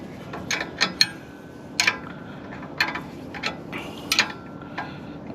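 Wrench ratcheting as an anti-rattle clamp on a trailer hitch is tightened, giving a series of short, sharp metallic clicks in irregular bursts, close and moderately loud.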